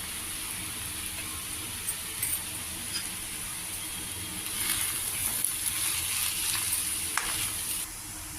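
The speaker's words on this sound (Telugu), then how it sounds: "ఉల్లిపాయ ముక్కలు ఇది కూడా వేసుకుని బాగా మిక్స్ చేసుకుని కాస్త ఫ్రై చేసుకోవాలి" Chopped onions frying with shredded cabbage in a pan for a cabbage fry, a steady loud sizzle throughout with occasional stirring scrapes, growing a little stronger midway, with no talking.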